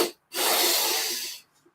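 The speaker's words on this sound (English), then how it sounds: "it often helps to inhale through the nostrils twice, a short followed by a long" Two inhales through the nostrils during a guided meditation, a very brief sniff followed by a long, steady hissing draw of breath, close and alone.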